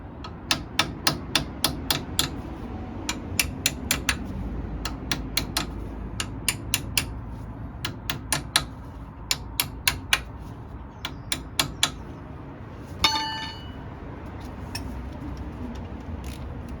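Hammer tapping a clevis pin on the air brakes of an AEC Matador truck, giving sharp metallic taps in quick bursts of two to four, close and loud, with no talk over it.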